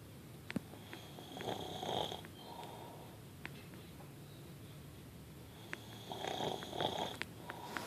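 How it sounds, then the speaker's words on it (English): A man asleep, snoring in slow rhythmic cycles, with each rasping inhale repeating several seconds apart at moderate, fairly close volume over a quiet room hum. "He doesn't think he snores loud"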